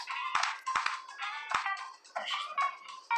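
Phone notification tones chiming repeatedly over a few seconds, a series of bright electronic pings and jingles interspersed with sharp taps, fairly close and clear.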